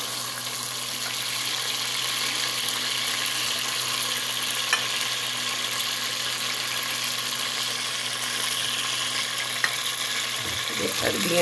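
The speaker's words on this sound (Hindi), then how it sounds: "ये अब हमने इसको फ्राई करना है" Pieces of arbi (taro root) frying in a pan, a soft steady sizzle running throughout at moderate distance, with a couple of faint clicks and a brief low thud near the end, no talking.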